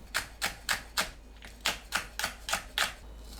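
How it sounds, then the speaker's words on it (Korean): A knife chops green onion on a cutting board in about nine crisp, evenly spaced strokes, close and fairly loud, with no talking. "파를 작게 썰어주세요."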